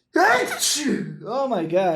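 A sharp human sneeze bursts out at close range, followed by someone talking in surprise.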